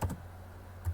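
Keys on a computer keyboard clack in a couple of quick bursts, faint and close, with a short gap between them.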